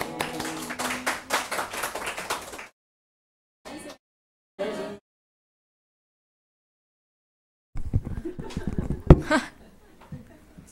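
A church congregation at a midweek service claps in a brisk burst that stops suddenly, followed by silence with brief noises and then a voice speaking.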